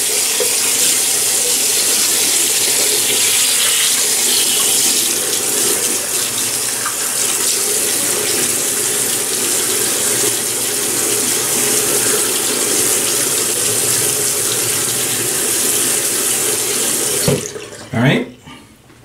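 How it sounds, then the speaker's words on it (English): Water runs steadily from a tap into a sink as the face is wetted before a shave, a close continuous splashing hiss that breaks into a few louder splashes near the end. "And I'm going to be wetting the face."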